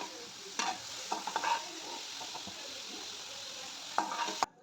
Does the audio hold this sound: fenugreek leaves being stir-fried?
yes